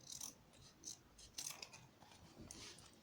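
Scissors snip through slipper fabric beside freshly stitched seams, several short crisp cuts coming in quick bursts, close up and fairly quiet, with no voices.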